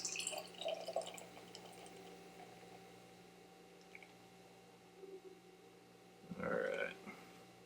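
Bearded Iris Mind Changer Imperial IPA being poured from a can: a faint, quiet liquid trickle, then a brief louder gurgling splash near the end, with no talking.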